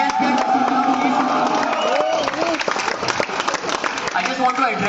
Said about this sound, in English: Give a big cheer for all those who have organized all this.